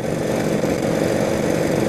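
A 1948 Indian Chief flathead motorcycle engine runs as a steady, loud, continuous drone with a low mechanical rumble and no break across the whole stretch.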